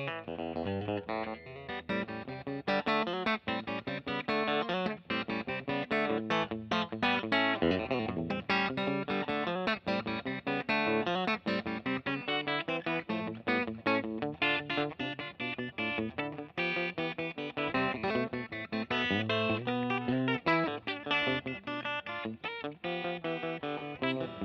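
A Fender Custom Shop 1959 Stratocaster Relic played clean through the bridge pickup, a bright, twangy tone with busy chords and single-note runs, steady and continuous, no voices.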